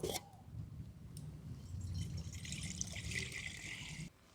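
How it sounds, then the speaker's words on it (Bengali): Water pours into a kadai cooking pan in one steady, close splashing stream lasting about four seconds, then stops abruptly, with no voices. "এরপর আমি উনুনটা ধরিয়ে নেব। কড়াতে দিয়ে দেবো জল।"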